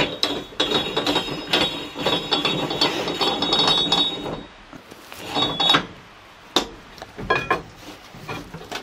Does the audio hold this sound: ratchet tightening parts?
yes